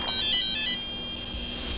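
An RC car's electronic speed controller, a Holmes Hobbies motor control unit in an R/C RZR, gives a short series of high electronic beeps and tones as the battery is connected, close and clear with no talking.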